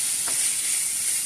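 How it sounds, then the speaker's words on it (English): Beef for a Philly cheesesteak sizzles in a frying pan, a steady bright hiss of frying with no talk. "You can see how fast that's already cooking up in the pan now."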